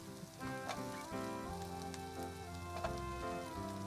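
Okra hits a pan of long-sliced frying onions and sizzles steadily in a continuous crackle, with a faint tonal background underneath.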